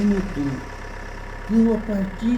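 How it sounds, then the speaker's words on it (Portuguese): A bus engine idles and revs at the station, a steady low drone with rising surges near the start and again toward the end, heard up close. "no motor do ônibus e começou a acelerar o motor"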